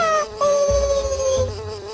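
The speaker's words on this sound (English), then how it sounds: "Where did all these talking flies come from?" A buzzing fly from The Emperor's New Groove PS1 video game, a steady high-pitched drone running through the whole stretch with game music and effects beneath it.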